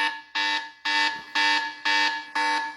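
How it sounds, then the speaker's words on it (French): Alarm ringtone from a Doogee DK10 5G rugged phone: a loud, close electronic tone pulsing in regular on-off bursts, about five beeps in under three seconds, clean with no voices. "sonnette d'alarme, donc lampe clignotante"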